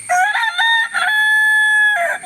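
A rooster crows loudly and close, one long drawn-out cock-a-doodle-doo with a few choppy notes at the start and a falling tail at the end.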